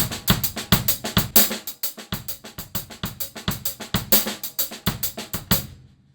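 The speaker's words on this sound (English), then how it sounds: "Now we're going to add the kick drum, and it sounds like this." Purdie shuffle drum groove with a low kick drum thumping under triplet cymbal and snare strokes and accented backbeats, steady and close, no voices.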